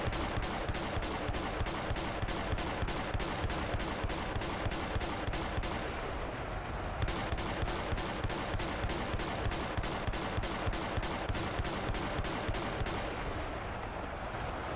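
Rapid, relentless shotgun blasts in a video game battle against thousands of ducks, loud and close, firing in a dense, steady barrage with no pauses and no talk.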